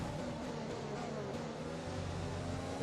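An F1 race car engine in F1 2020 drones steadily at high revs, a continuous whining hum with faint shifting pitch, quiet and unbroken throughout.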